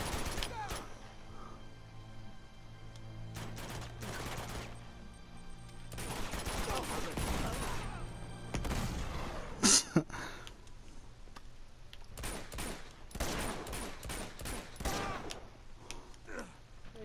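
Gunfire in the video game Uncharted 2, bursts of rapid automatic shots in clusters separated by short gaps, one sharp louder crack near the middle, fairly quiet overall.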